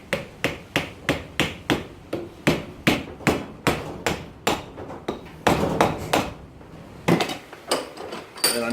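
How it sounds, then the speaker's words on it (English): Repeated sharp mallet blows drive a wedge into a hammer handle, struck at a steady rhythm of roughly two hits per second, loud and close, with a brief pause before a final quicker flurry of strikes; no talking. "You can use a rubber mallet, wooden mallet, steel mallet,"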